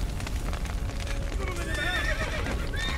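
In the video game Witcher 3, horses trapped in a burning stable whinny repeatedly over a loud, constant roar, with shrill neighs rising and falling amid clattering noise.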